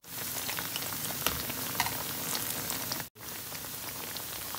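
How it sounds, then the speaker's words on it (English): Plantain slices fry in hot oil, giving a steady, close crackling sizzle with fine popping spatters and one brief drop-out. "I'm now cooking the plantain, frying it."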